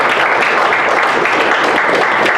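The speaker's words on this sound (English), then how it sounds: "So can we please give Brad a round of applause for everything he does" A luncheon crowd gives a sustained round of applause for a colleague, dense, loud, even clapping filling the room without pause.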